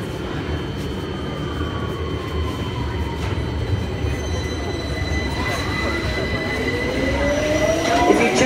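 A Victoria line London Underground train pulls out of Victoria station at peak hours, its rumble building steadily while the wheels squeal in rising and falling tones under faint platform voices.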